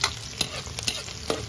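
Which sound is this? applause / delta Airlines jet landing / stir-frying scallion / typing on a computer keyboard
stir-frying scallion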